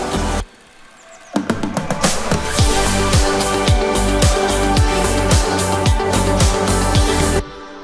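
Second chorus of the song playing back, a full mix with steady punchy drums and a dense pulsing low end. It starts with a short dip, then swells in loud and continuous before stopping abruptly near the end.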